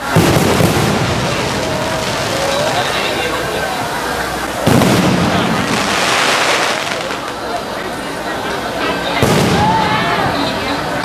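Fireworks are set off at a provincial event in Trat, Thailand: a dense, continuous crackling and booming barrage with a few stronger bursts, heard mixed with a man's speech.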